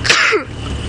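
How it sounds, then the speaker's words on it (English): A single short sneeze or throat-clearing burst, close and sharp, from someone riding along a dusty safari road, then quiet vehicle background. "seems like this road is quite dusty, so it's making me sneeze a little bit."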